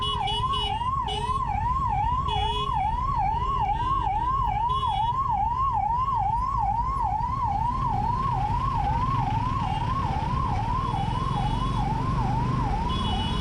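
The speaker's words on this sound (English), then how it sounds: "let the damn ambulance go." An ambulance siren wails steadily up and down in a fast repeating cycle, loud and continuous throughout, over a low rumble of traffic on a Bengaluru road.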